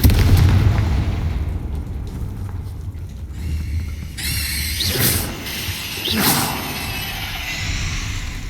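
Confringo blast spell in the Hogwarts Legacy video game, heard as a deep booming explosion that fades out, then two rushing whooshes with fiery bursts.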